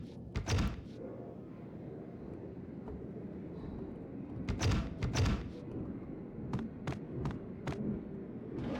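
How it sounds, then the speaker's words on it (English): Several heavy doors thud and clunk in a Max Payne game scene, scattered impacts of varying loudness over a low ambient rumble, with sharp knocks clustered toward the end. "I hear doors."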